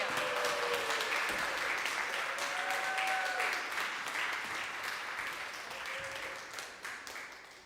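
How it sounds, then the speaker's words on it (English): Audience at an academic symposium in a Korean church applauds to welcome a speaker, a dense wash of clapping with a few faint whistles, gradually thinning and fading toward the end. "Let us welcome her with a big round of applause."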